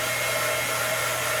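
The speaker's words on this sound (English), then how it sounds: "use my blow dryer for just a second here." A handheld blow dryer dries a stitched fabric quilt block, giving a steady, continuous close-up whoosh and hum with no pauses and no voices.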